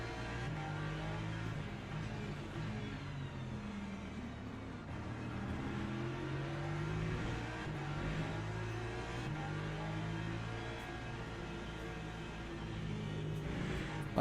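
Porsche race car engine in Le Mans Ultimate, a sustained mid-pitched drone that rises and falls gently with throttle over a long stretch, moderately quiet and without talk.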